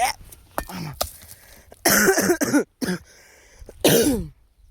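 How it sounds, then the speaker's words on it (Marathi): A person coughs and clears the throat outdoors while throwing stones, several harsh close bursts separated by short pauses. "खोकला लागतोय आपल्याला"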